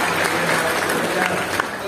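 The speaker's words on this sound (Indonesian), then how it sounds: "Tepuk tangan yang paling meriah buat Tuhan" Church congregation clapping for God at a service, a loud continuous burst of many hands filling the room, with a murmur of voices mixed in.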